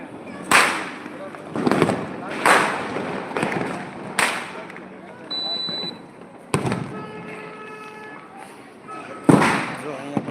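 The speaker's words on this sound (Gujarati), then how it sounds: "હજી પણ ફટાકડા ચાલુ છે" Firecrackers set off outdoors crack and boom in a repeated series, sharp bangs arriving every couple of seconds with rumbling tails, while voices talk in the background.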